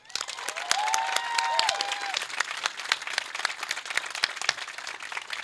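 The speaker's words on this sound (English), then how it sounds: "let's clap for them again" Audience at an 8th grade culmination ceremony breaks into sustained applause, dense clapping from a sizable crowd with a few cheers, loud and continuous throughout.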